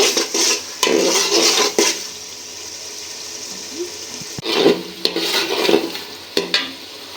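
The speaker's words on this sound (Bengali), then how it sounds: "মশলাটা কষানো হয়ে গেছে এখন ভেজে রাখা ডিমগুলো দিয়ে দিব ডিমটা একটু কষাই নিব" Fried quail eggs are stir-fried in a masala of ginger-garlic paste for bhuna khichuri in a village kitchen, with a soft sizzle and intermittent clanking spoon strokes against the pot.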